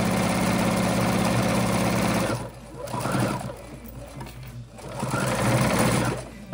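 A sewing machine stitches elastic onto a cotton face mask, a close, steady mechanical whir that stops and then restarts in short runs.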